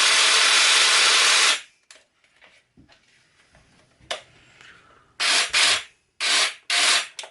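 An Excel 18V cordless hedge trimmer with a 410mm blade, model 11781, running: a steady loud buzzing rattle for over a second, a quiet pause with small handling knocks, then several short bursts as it is switched on and off.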